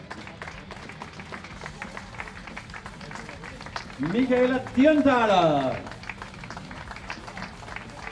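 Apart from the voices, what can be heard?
audience applause for women racing drivers at Red Bull Ring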